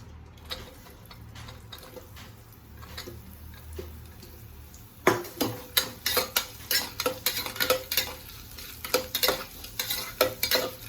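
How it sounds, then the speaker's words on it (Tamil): Onions sizzle in hot oil, quiet at first, then a spoon scrapes and stirs the pan in quick, repeated clattering strokes. "வெங்காயம் நல்லா வதங்கட்டும்."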